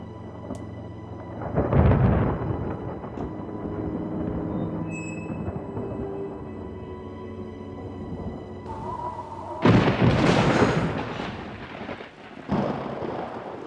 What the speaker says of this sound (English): Looks like this storm will last the night.